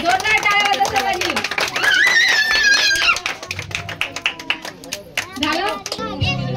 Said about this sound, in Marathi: जोरदार टाळ्या वाजवा सर्वांनी.